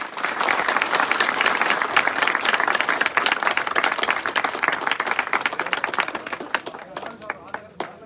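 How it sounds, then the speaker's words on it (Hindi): An audience at a political gathering applauds loudly and steadily, dense clapping sustained for several seconds before tapering slightly at the end. "जोरदार तालियों के साथ।"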